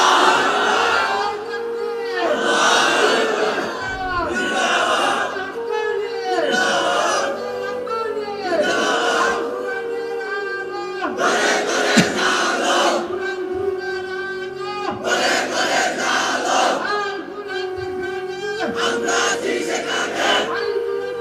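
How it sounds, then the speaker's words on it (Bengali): A large crowd at a religious sermon shouts takbir slogans in loud, repeated call-and-response bursts, voices rising together in rhythmic waves throughout. "তোমরাই স্লোগান দাও, তোমরাই তাকবীর বলো"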